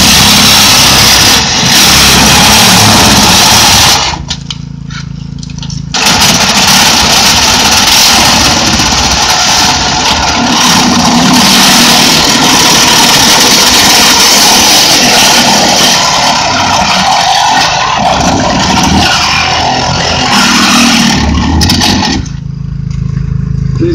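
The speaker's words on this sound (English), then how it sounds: "These guys are now doing a series of cuts on the car, cutting it in different areas so that we can make it move how we want." A rescue crew cuts into a car during an extraction demonstration, with a loud, constant engine-driven drone, harsh grinding and scraping of metal, and brief drops where the machinery eases off before roaring back.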